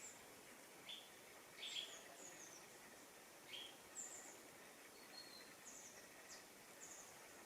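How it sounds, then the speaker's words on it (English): Several birds give brief high chirps and calls, scattered and fairly distant, over a quiet, low hum of background noise. "What a bird sound as well."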